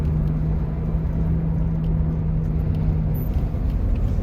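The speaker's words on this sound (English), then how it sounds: "A little bit of cabin noise, but that's only because the windows are down." Cabin noise inside a moving 1994 Oldsmobile Silhouette minivan with the windows down: a steady low road rumble and engine drone with wind hiss, continuous and fairly loud throughout, no voices over it.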